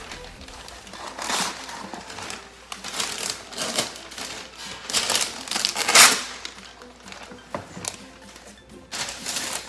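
Parchment paper crinkles and rustles as it is pulled and pressed flat to line a cookie sheet in a home kitchen, close and in irregular bursts with no talking.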